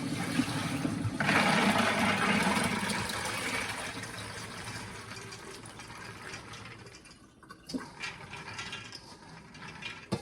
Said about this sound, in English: I'm going to go ahead and rinse my black beans here that have been soaking overnight and pour them through here to drain off all the water